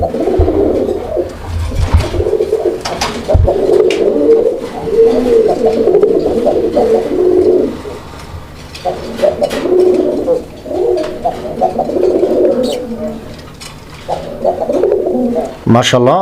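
Several domestic pigeons of the Raj-golla breed coo steadily in low, rolling phrases up close, with someone talking through much of the cooing.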